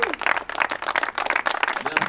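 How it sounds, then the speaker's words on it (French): Audience applauding at a club event in Dammartin, a vintage Rusti Design challenge final, with dense rhythmic clapping and cheering voices mixed in, fairly loud and continuous throughout. "on peut les applaudir vraiment fort"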